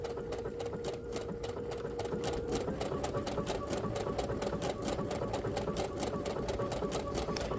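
A sewing machine stitches a quilted wall hanging with a rapid, steady mechanical chatter that quickens slightly as it runs, close and continuous with a faint hum underneath.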